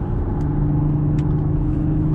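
Audi S4 with a Stage 2 tune under hard acceleration, its engine a loud, steady, close drone with a strong low tone and no break over the whole stretch.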